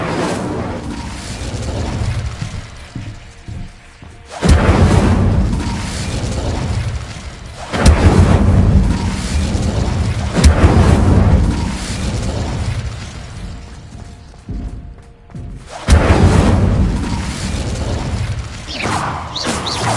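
Incendio fire spell cast in Hogwarts Legacy, a series of loud whooshing fiery bursts, four or five big blasts separated by quieter gaps, no talk.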